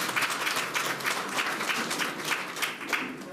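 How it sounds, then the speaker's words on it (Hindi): An audience at a public event in Maluna, Chamba, claps loudly and steadily to welcome a municipal council team, a dense continuous roar of many hands with no voices over it. "मैं चाहूंगी आप सभी एक बार जोरदार तालियों से इन सब का स्वागत करें"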